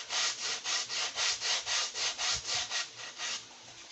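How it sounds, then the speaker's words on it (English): Wood edges being sanded into a bevel on a model flyer build, about a dozen even back-and-forth rasping strokes in a steady rhythm, close and clear, fading slightly toward the end. "So I'm going to sand it at the same time"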